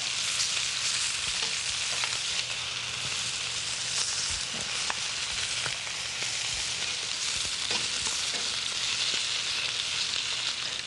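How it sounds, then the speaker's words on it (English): Scallops sizzle steadily in a hot pan, a dense, even frying hiss that holds at a constant level with faint crackles and pops scattered throughout, close and alone with no talk. "Keep cooking until you finish all your scallops"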